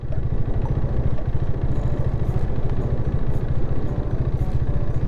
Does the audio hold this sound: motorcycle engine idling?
yes